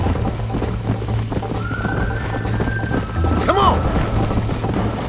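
Galloping horse hooves in Red Dead Redemption drum in a fast, steady clip-clop throughout, with a brief whinny partway and a voice shouting over the ride.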